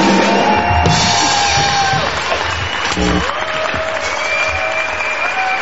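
Audience applause fills the room steadily, a dense continuous wash of clapping with scattered cheers and whistles over it, loud and close throughout.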